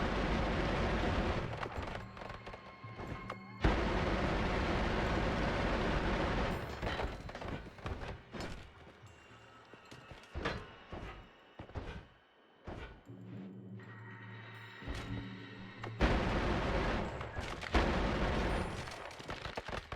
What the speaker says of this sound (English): It's a 2-frame wand. So it shoots at the maximum speed a 2-frame wand can shoot.